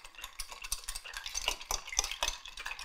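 Quick, rhythmic clinking and swishing as a cocktail is stirred over wet ice in a glass, fairly close and quiet, with no talk.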